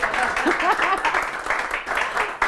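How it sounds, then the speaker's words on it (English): An audience claps and applauds steadily, with a murmur of voices mixed into the crowd noise. "come on, I need my clap."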